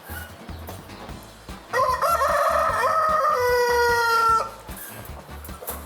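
A large fancy-breed rooster on a hen farm in Karachi crows loudly once, a long strained call lasting a few seconds, with quieter background noise before and after.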